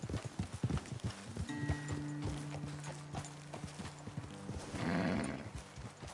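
Horse hooves clip-clopping at a steady walk in Red Dead Redemption 2, close and distinct, with a soft snort and faint background rustle.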